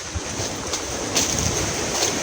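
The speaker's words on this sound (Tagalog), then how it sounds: "lakas ng hangin" Strong wind gusting outdoors by a water well, a loud, continuous roar with rough buffeting against the microphone that swells and surges throughout, with no voices.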